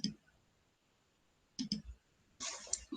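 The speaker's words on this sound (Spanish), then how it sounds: "Y luego vamos a dar clic derecho." A computer mouse is clicked in a quiet room: a lone click, then a quick pair, then a short cluster of sharp, close clicks.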